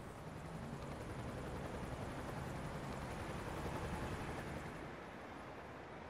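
In the video game Emergency 5, a helicopter gives off a dense, continuous rotor roar that holds steady and fairly loud, easing off slightly near the end, with no one speaking.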